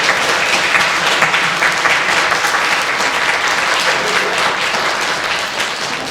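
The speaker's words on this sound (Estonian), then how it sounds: "nii et selle eest väga suur aplaus kõigile juhendajatele" An audience claps for the directors at a children's theatre festival, a loud, sustained wave of dense applause filling the room, tapering slightly near the end, with no voices.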